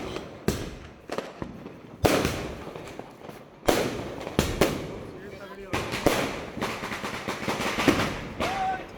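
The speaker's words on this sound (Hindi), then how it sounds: "अब फूटेगा आलू बम" Aloo bomb firecrackers burst during Diwali celebrations in Meerut: several sharp, loud bangs at uneven intervals, each followed by crackling and rumbling, with people's voices talking around them.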